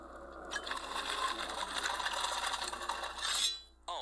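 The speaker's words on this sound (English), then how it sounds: "what's that grating, clawing sound coming from behind us?" A harsh, continuous metallic scraping and grating of a claw on a graveyard gate in a video game, rattling steadily for a few seconds before cutting off abruptly.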